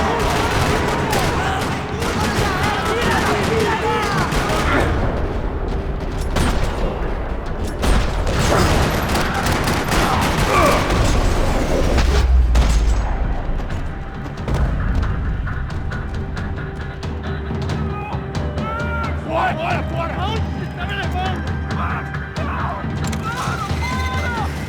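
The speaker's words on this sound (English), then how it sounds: "another parking lot rattling with gunfire." Gunfire from the video game Max Payne 3 rattles in bursts through a parking lot, alongside crashes and booms, with voices talking over the chaotic action.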